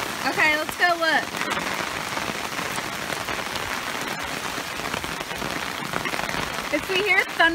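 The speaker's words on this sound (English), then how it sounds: "It's really raining hard." Heavy rain pours down outdoors in a steady, dense hiss of drops striking surfaces, with brief voices talking near the start and end.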